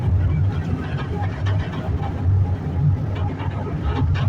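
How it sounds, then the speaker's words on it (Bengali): Steady low rumble of a moving train heard from inside, a continuous rolling drone with faint rattles throughout. "ট্রেন চলছে ট্রেনের ভিতরে বসে আছি"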